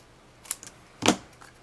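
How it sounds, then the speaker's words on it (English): Scissors cut through card for a handmade greeting card: a couple of short, crisp snips close up, the second longer and louder, with no talking. "I'm going to cut it about there with my scissors"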